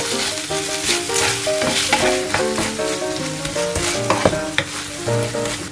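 Sour cream and mustard are stirred in a pan, with a busy close sizzle and scraping spoon strokes over a steady tonal musical backing.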